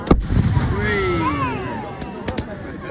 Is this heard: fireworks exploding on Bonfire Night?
yes